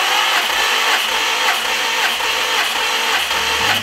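A used Subaru engine cranking over on the starter with a compression tester fitted to cylinder number 4, giving a steady, loud mechanical whirring drone with a faint rhythmic pulse throughout and no talking.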